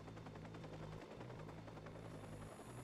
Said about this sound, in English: Can I take down the chopper?